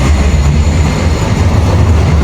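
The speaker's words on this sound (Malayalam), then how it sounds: "അടുത്ത വേറൊരു ട്രാം ആ ഒരു ഭാഗത്തുനിന്ന് വരുവാണ്." A tram passing through the old city of Lviv, Ukraine, a loud, close, steady rumbling roar of the tram rolling by, with no voices.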